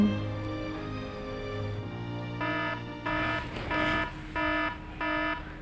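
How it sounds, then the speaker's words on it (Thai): An alarm signal sounds in repeated electronic beeping bursts, with a steady tone at the start, then a run of short pulses in a regular on-off rhythm, fairly loud and clear with no talk. "สัญญาณเตือนภัย"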